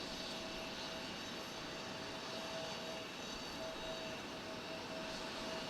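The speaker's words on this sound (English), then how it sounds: "There's another Delta Connection plane, 900." A Delta Connection 900 regional passenger jet at Raleigh-Durham airport gives off a steady, broad engine roar at moderate distance, holding constant for several seconds with no voices over it.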